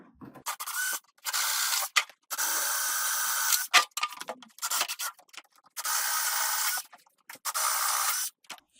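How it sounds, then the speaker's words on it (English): A drill drives a 13/32 bit through a workpiece in several separate bursts, each a rough whirring grind, separated by short quiet pauses. "we're going to use the 13/32 bit to accommodate the 3/8-inch bolt"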